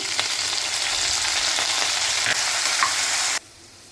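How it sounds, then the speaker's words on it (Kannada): Fenugreek leaves hit hot oil in a pan for a tempering, giving a loud, continuous close-up sizzle with a few stirring clicks. The frying sound drops off abruptly just before the end. "ಈಗ ಮೆಂತ್ಯ ಸೊಪ್ಪು ಹಾಕ್ತಾಯಿದ್ದೀನಿ ಸ್ವಲ್ಪ ಒಗ್ಗರಣೆಗೆ."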